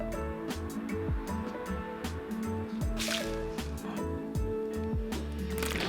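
Hot water pours onto instant coffee and sugar in a bowl, giving soft sloshing and splashing with scattered clinks and drips, close and fairly quiet.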